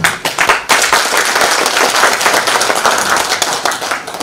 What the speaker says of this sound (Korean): 박수로서 환영하겠습니다.